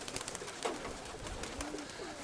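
Pigeons coo softly amid a busy outdoor background, low murmuring calls repeating a few times.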